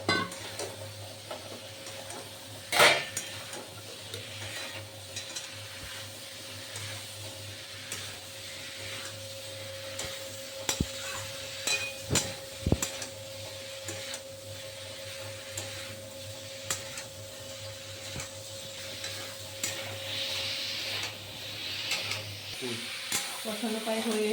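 Potatoes and cauliflower being sautéed together in oil for a vegetarian cauliflower curry, a continuous sizzle with frequent spoon scrapes and knocks against the pot over a faint steady hum, no speech.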